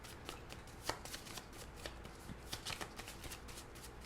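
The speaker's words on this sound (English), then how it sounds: "I'll give the deck a good shuffle" Quiet, rapid riffling and soft flicking of cards repeat in short bursts, a tarot-reading deck being shuffled close by with no talking.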